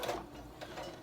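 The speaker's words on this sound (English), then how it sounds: "Go ahead and lower your needle and begin sewing." Home sewing machine stitching a coat-dress sleeve seam, a steady close mechanical whir with faint ratcheting ticks running through the whole second, no voices.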